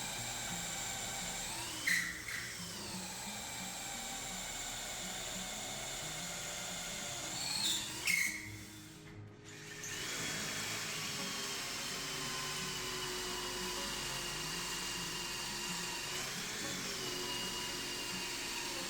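A drill bores cross holes for bolts through a wooden workbench trestle base held in a Rockler drilling jig, a high steady whine that continues for a long stretch after a brief break.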